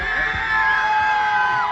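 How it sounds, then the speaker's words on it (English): Large outdoor crowd erupting into cheers and yells after the Derek Chauvin guilty verdict, a brief dense burst of shouting and whooping voices, loud and sustained. "A large crowd erupting into cheers after learning Derek Chauvin was found guilty in the murder of George Floyd."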